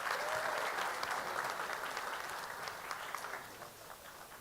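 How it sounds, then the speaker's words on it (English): Audience applause after a question session at a live conference presentation: steady, dense clapping from a large crowd that stays loud, then gradually thins and fades. "Round of applause."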